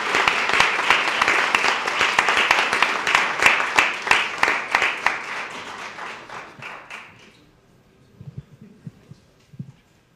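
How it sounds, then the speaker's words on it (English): Applause from an audience at a county freeholders' ceremony honoring a high school marching band, loud steady clapping for about seven seconds that fades out, followed by a few faint thumps. "let's give them a round of applause"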